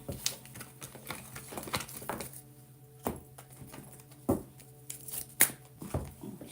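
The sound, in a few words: shuffling tarot cards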